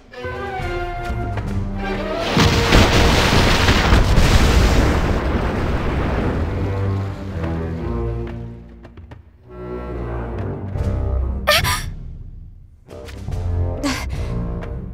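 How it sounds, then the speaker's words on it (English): Cannon bombardment in a video game: a long, heavy explosion roars and rumbles for several seconds, followed by more booms and a sharp crack, with game music and effects layered throughout. "Cannon fire incoming!"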